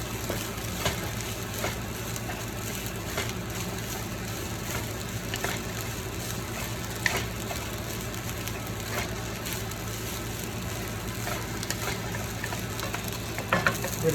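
Shrimp fried rice crackles and sizzles steadily in a hot wok, a dense continuous frying hiss with occasional scrapes and clicks of stirring throughout.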